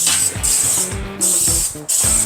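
Three close bursts of aerosol cooking spray hissing onto two baking pans for soft pretzels, each with a rattling mechanical clack from the nozzle.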